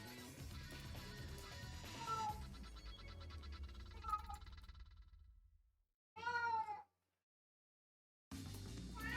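A house cat meows several times indoors, drawn-out calls near the mic separated by silence and rustling, with no talking.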